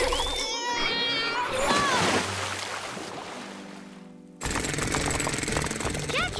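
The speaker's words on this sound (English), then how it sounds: "Jackhammer it." A cartoon jackhammer pounds on a construction site with puppy builders, a fast, loud mechanical rattle that kicks in abruptly partway through, after earlier cartoon voices and effects.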